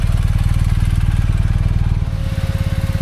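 Motorcycle riding along an Alpine mountain road, its engine a loud, steady low-pitched throb close by that shifts to a rougher, pulsing rhythm partway through as the rider changes pace, with wind noise underneath and no talking.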